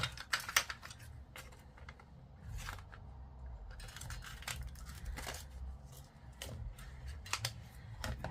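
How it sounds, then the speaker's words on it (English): Close, crisp snips of scissors cutting paper, a steady run of short clicks over a low background hum. "Just cut this straight, or as straight as possible, using scissors."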